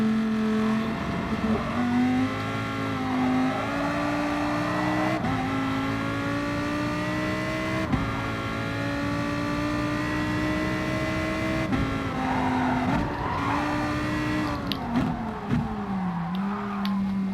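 Race car engine in Gran Turismo, a sustained high revving drone with rising and falling pitch through gear shifts and braking dips, steady and close for the whole stretch, without talk.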